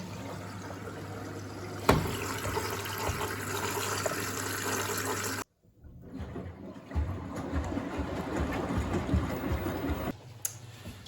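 A washing machine in a Swedish cottage takes in water through its supply valve, giving a steady rushing, hissing flow that cuts out briefly and then resumes with gurgling, splashing turbulence, close and alone.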